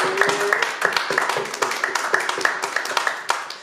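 A small audience at an artist workshop claps steadily with dense, crisp hand claps, while a voice or cheer briefly rises above the applause.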